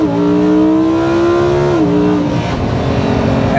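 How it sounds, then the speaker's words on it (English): A Lamborghini Huracan EVO LP640-4 launches in sport mode with heavy wheelspin, its engine revving loud and close with a steady high note that drops as it shifts. "It's almost like burnout mode where you can get the tires really, really spinning."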